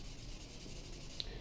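A cloth rubs turquoise dye off a wood surface in a brief, soft, steady scrubbing swish, close and quiet.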